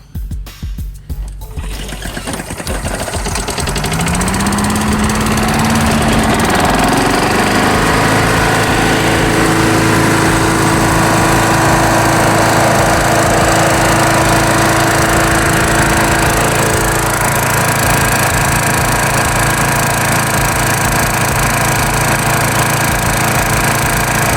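Petrol engine of a Craftsman yard vacuum starting with a single pull, clattering briefly, then settling into a loud, steady, close roar that runs on unbroken.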